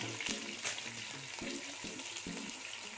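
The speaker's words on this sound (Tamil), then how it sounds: "ஃபர்ஸ்ட் வெங்காயம் வதங்கட்டும்" Onions and curry leaves sautéing in a pan over medium flame, a soft continuous frying hiss with faint stirring scrapes, low in level and without speech.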